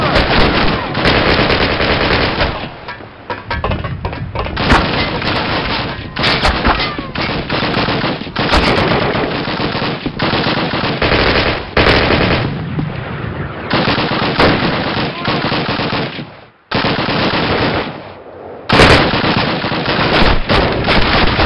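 Sustained, loud machine-gun fire in Call of Duty during a battle at Benouville, France, with long rattling bursts and explosions and only a brief lull near the end.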